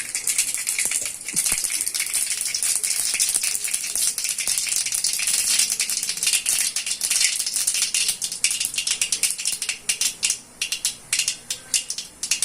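Mustard seeds spluttering in hot sesame oil as a tempering for raw mango thokku, a dense rapid crackle of tiny pops that runs continuously and loud, thinning into separate bursts toward the end, with no voices.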